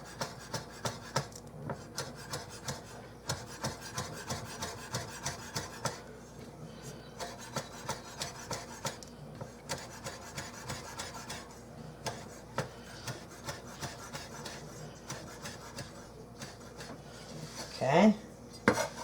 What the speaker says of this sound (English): I've got chives here, and I've got them all rinsed and dried, and I'm just going to chop these up real fine